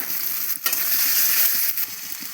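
Cumin, chili, ginger, tomato and potato sautéing in a pan: loud, close, continuous frying hiss with brief spatula scrapes breaking through, no voices.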